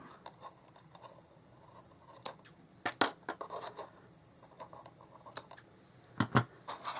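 Scissors snip off the tails of a small handmade paper box, giving a few sharp crisp cuts among quiet paper rustles and handling sounds, close up with no talking.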